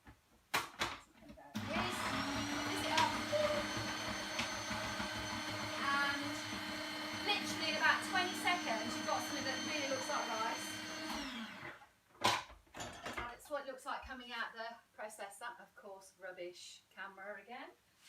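A food processor chopping cauliflower whirs loudly and steadily for about ten seconds, with bits rattling inside, then stops; a person talks before and after.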